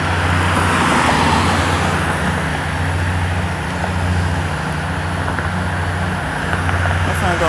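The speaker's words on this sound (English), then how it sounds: "I got one car that way coming." A car approaches and passes on a road beside a pedestrian walking to the store, heard as a steady, fairly loud roadway rumble with low engine hum throughout, with no speech.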